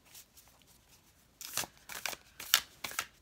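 Tarot cards being shuffled by hand, a quiet start followed by a series of crisp riffling bursts at close range, with no talking.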